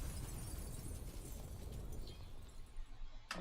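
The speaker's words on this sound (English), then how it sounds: "House exploded that time." A house blows up in the Jackbox party game Trivia Murder Party, a sustained, noisy blast-like roar that stays steady and fairly faint, ending in a sharp short crack, with no talk over it.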